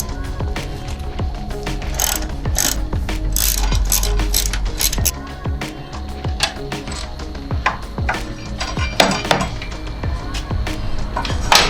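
A ratchet clicks in quick, uneven bursts while Brembo brake calipers are removed from a track motorbike, with small metallic knocks and tool rattles close by and no talk.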